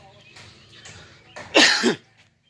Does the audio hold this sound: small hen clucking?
no